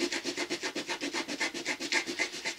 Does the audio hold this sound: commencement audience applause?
no